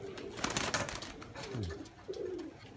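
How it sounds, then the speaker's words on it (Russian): Pigeons coo close by in a loft, with a couple of low throaty rolling calls after a burst of fluttering wing noise, against a faint background. "Это же голубь, который в ночь садился, видите?"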